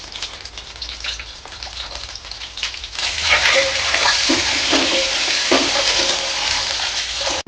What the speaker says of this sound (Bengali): এই তেলে ডিমগুলো ভেজে নেব